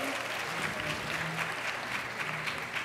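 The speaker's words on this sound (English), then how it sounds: "How about a round of applause?" A conference crowd at UC Berkeley applauds, a full, steady wash of clapping from many people at middle distance, lasting a few seconds without pause.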